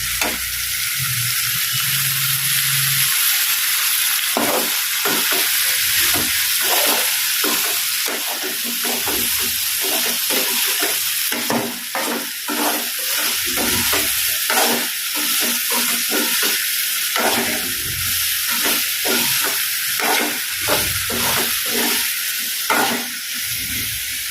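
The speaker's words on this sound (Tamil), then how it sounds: "கொஞ்ச நேரம் வெண்டைக்காய் வதங்கட்டும்" Okra (ladies' finger) sautéing in a pan with tomato and curry leaves, giving a constant loud hiss of frying broken by frequent sharp stirring scrapes, close up and continuous.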